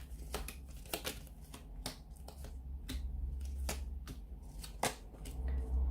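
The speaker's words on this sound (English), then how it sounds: "So we'll give the cards a shuffle." Close, quiet riffling and snapping of cards being shuffled, a series of crisp flicks spread irregularly over a low hum.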